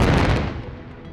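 Underground blasting of a chromitite seam and interburden in a platinum mine, a single loud, close boom that starts at full force and then rumbles and decays over about a second.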